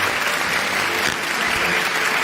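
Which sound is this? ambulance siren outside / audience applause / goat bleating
audience applause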